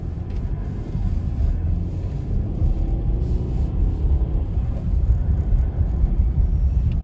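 Low, steady road rumble and engine drone fill the cabin of a 2015 Ford Fusion EcoBoost fitted with a K&N cold air intake as it drives on a test run, with no talking.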